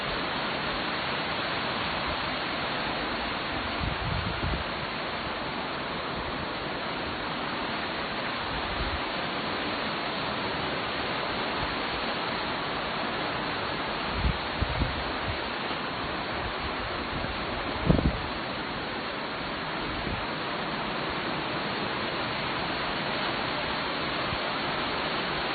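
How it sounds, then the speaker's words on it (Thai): Water flows steadily through Tham Nang Aen cave in Khammouane, a constant loud rushing wash that fills the whole stretch, with a few faint knocks and thumps rising briefly above it. "น้ำไหล"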